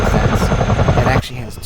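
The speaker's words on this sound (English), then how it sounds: "It's a twin rotor helicopter." A Chinook CH-47 twin-rotor helicopter in flight gives a loud, steady low rotor throb with engine roar, pulsing rhythmically up close before the level drops sharply near the end; speech-like energy blends into the noise.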